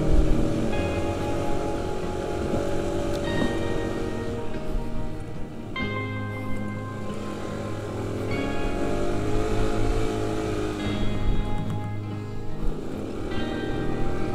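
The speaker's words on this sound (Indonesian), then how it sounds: "Ada tuh satu mobil yang nanjak tuh." A car strains up a steep uphill road at night in the rain at Krakalan, its engine notes rising in repeated surges over a constant wet, hissing background, with no talking.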